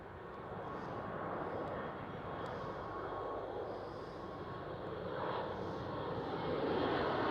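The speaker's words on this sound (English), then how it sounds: "This is Air Baltic A220" An Air Baltic Airbus A220 airliner at Amsterdam Schiphol gives off a steady, continuous jet engine roar that swells slightly toward the end, heard from a moderate distance with no talk.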